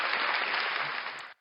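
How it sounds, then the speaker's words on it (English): A short round of applause: dense, steady clapping from a small group, fairly close, lasting just over a second before it cuts off abruptly. "Round of applause again."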